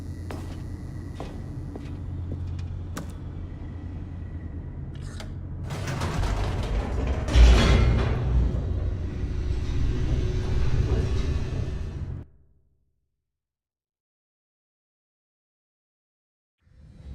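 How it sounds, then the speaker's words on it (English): Heavy mechanical elevator descending in The Stanley Parable: Ultra Deluxe, with creaking gears and ratcheting clicks that swell into a loud rumbling slide, then stop abruptly into silence. "The elevator raced downward, plummeting towards an unknown fate."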